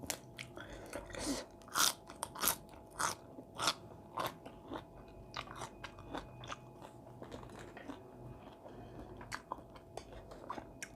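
Someone eats a spicy Thai raw shrimp salad with crisp fresh vegetables, with close, quiet bites and crunchy chewing that come in irregular bursts over a low, steady background.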